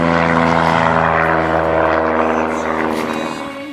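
A propeller aircraft at Kajansi Airfield, a loud, droning engine hum with a throbbing buzz, steady and close before fading slightly at the end.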